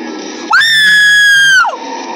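A loud, sustained electronic shriek from Golden Freddy in the video game Five Nights at Freddy's, rising abruptly, holding a harsh tone for about a second, then dropping away into quieter game noise.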